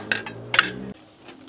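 Pieces of chicken go into a metal pressure cooker, giving two quick close clanks and rattles about half a second apart before things fall quiet, with no talking.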